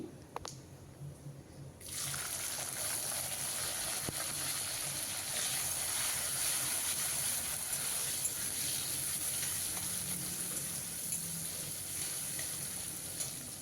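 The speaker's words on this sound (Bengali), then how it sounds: "টমেটো খুব ভালো করে কষিয়ে নিতে হবে যত সময় না টমেটোর থেকে কাঁচা গন্ধটা যাচ্ছে" Chopped tomato hits hot oil with a sudden loud hiss, then settles into a steady bright sizzle of tomato pieces sautéing in tempered oil for vegetarian moong dal.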